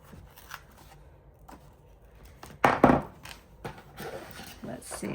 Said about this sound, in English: we can just cut that with our trusty knife right there